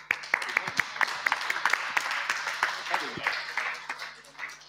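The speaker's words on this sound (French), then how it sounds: "On vous applaudit." Scattered audience applause at a public heritage prize audition, sharp separate claps standing out over murmured voices and room noise.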